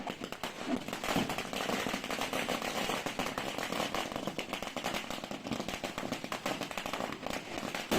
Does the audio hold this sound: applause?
no